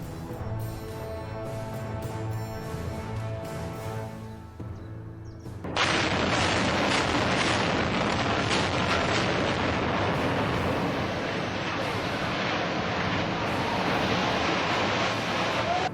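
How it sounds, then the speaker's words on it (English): A tall factory tower comes down in an industrial demolition. A quieter, tonal stretch gives way at once to a loud, sustained, broad roar of crashing and rumbling debris that fills the rest of the clip. "The whole building drops straight down like it's being pulled by an invisible hand."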